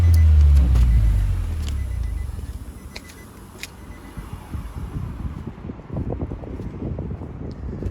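Nissan Juke 1.6 DIG-T Nismo RS petrol engine with manual gearbox running, a strong low rumble at first that settles into a steady idle with light rattles, close and alone.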